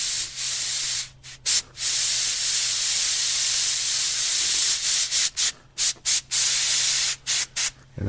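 A gravity-feed airbrush sprays paint in a series of close hissing bursts of varying length, separated by brief pauses, with a low steady hum underneath.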